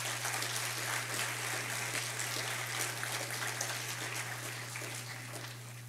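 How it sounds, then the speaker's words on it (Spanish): Audience applause at an international mathematical modelling conference, a dense, even rush of many hands clapping from some distance, slowly tapering toward the end over a steady low electrical hum. "Un aplauso, por favor."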